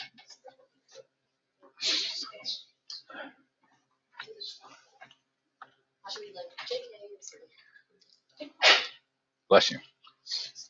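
A single sharp sneeze bursts out near the end amid a classroom-style session of people chatting and talking over scattered clicks and breaths.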